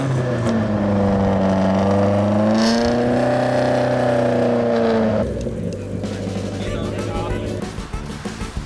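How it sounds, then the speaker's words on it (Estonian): A rally car's engine runs loud and close during an outdoor sound test at the Arctic Lapland Rally, a steady rising and falling engine tone that drops to a rougher idle near the end, with voices faintly underneath. "me tuleme siia nüüd vaati auto välja, väljas tehakse helitest."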